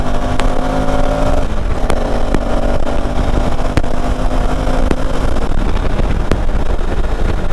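A KTM Adventure 390 motorcycle cruises at a steady pace, its engine drone mixing with heavy wind rush, and a few sharp ticks and clicks sound over it.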